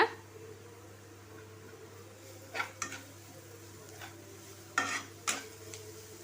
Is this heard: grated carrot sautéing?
yes